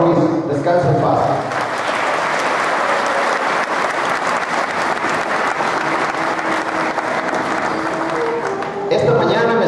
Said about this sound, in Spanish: Un fuerte aplauso a nuestro amigo